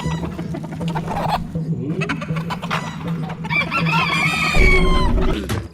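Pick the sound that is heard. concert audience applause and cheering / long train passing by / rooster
rooster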